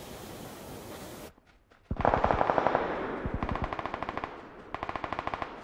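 Machine gun fire in PUBG Lite, a short break, then rapid bursts of automatic shots, loud and close, coming in several runs with brief gaps between.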